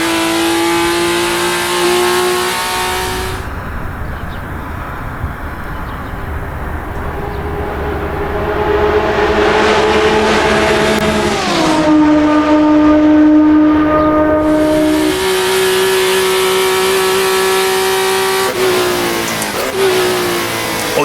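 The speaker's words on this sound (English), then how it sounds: "An inline 6 buzzing away behind me like a pack of hornets." An inline six engine in a 1960s World Sportscar racer in Assetto Corsa buzzes loud and steady, climbing through the revs with a brief dip at a gear change before pulling up again, no talk over it.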